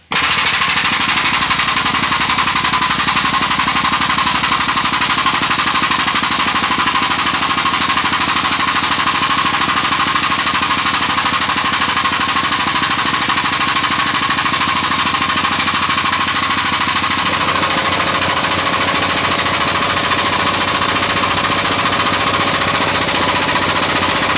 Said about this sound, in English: Sorry about the compressor, let me shut it off.